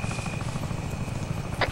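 Helicopter rotors thudding steadily overhead in Arma 3 during night combat, a continuous loud drone with a brief sharp hiss near the end.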